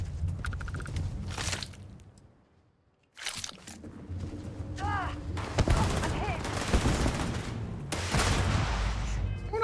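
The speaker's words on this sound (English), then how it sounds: "Just gonna shoot Unit 99 from here." Rapid gunfire crackles in bursts in a war-machine shooter game, firing at a robot enemy called Unit 99, loud and close, with crunchy impacts, a brief lull and a voice speaking over the shots.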